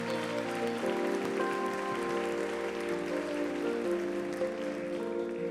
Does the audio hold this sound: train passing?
no